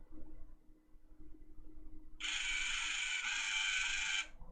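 Small Codey Rocky educational robot driving forward and then backward. A faint, steady whir of tiny motors runs for about two seconds and changes briefly where it reverses. Quiet room hum sits underneath.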